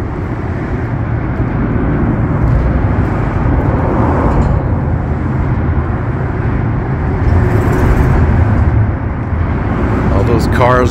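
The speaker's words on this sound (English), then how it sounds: "All those cars just zooming by." Cars rush past on a busy road in Albuquerque, making a loud, continuous wash of traffic rumble and tire roar that swells as vehicles pass close by.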